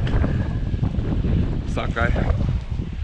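Strong wind blows outdoors near a sheltering wall on a hillside while fishing hoops are being pulled, a steady broadband rush under a voice.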